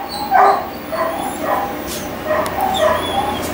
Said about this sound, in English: This is a purple puppy.